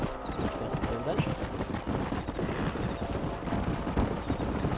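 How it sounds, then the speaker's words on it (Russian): Horse hooves clip-clop at a steady walking rhythm in the video game Red Dead Redemption, mixed with soft wind and ambient game sound while someone talks over it. "Лошадь не отставай, туда идем."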